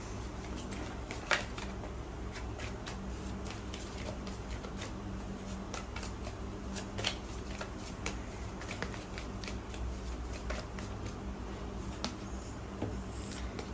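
Tarot cards are shuffled steadily and up close, a continuous papery riffle with occasional sharper flicks and no talking.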